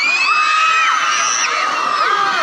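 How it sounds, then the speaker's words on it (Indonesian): Junior high school students at SMP Negeri 5 Lubuklinggau shout together as a crowd during an anti-bullying session, a loud, sustained burst of overlapping voices close by. "Coba teriak."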